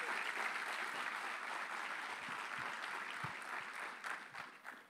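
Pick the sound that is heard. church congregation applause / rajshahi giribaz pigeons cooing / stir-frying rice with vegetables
church congregation applause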